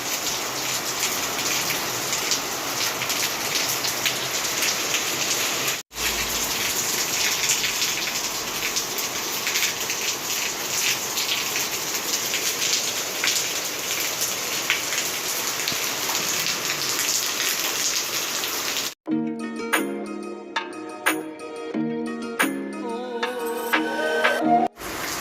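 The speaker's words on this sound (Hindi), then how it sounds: "थोड़ी थोड़ी अभी बारिश आ रही है" Steady rain patters on surfaces outdoors, a dense, even hiss that runs for most of the clip, then gives way to quieter, scattered drips and other sounds near the end.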